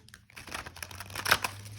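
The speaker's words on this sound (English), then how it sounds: "I can sideways shuffle this one too." A mass-market Crow Tarot card deck shuffled sideways by hand, giving a brief papery crinkling and riffling of cards with a sharper flutter near the end, close and fairly quiet.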